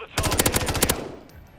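A single close, loud burst of rapid automatic gunfire from Modern Warfare III, around a dozen shots in under a second, then a quick fade to quiet.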